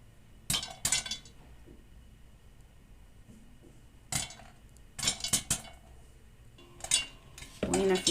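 A utensil stirring sugar in a pot as it caramelizes for popcorn, producing intermittent metallic scrapes and clinks in short clusters separated by quiet gaps, close and without talk.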